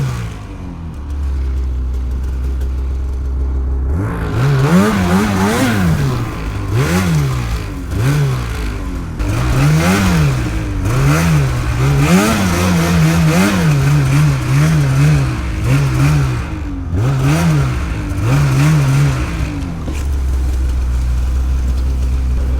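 A snowmobile engine revs hard and repeatedly while riding over rocky, boulder-strewn spring ground, its pitch rising and falling in quick surges, loud and close throughout with no talk.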